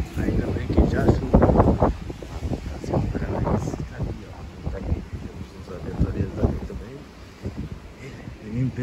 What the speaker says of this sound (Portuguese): Pensa um vento